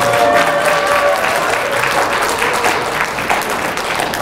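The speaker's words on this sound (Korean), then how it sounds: "두 번 박수를 크게" An audience at a Korean lecture on Jeong Ji-yong's poetry breaks into loud, sustained applause, dense overlapping clapping that fills the room for several seconds without letting up.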